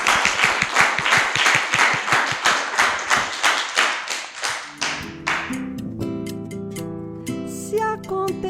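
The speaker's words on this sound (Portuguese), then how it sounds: "uma salva de palmas para todo mundo" A student gathering's audience claps in a steady rhythmic beat for about five seconds, close and loud, before the clapping fades into music.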